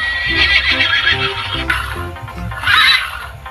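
A horse neighs loudly in a long, wavering whinny, then gives a second shorter whinny toward the end, with no talking.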